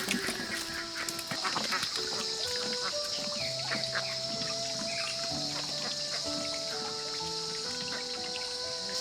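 Ducks and other fowl call on a farm, with quacks and honks overlapping in an irregular, busy chorus at moderate distance.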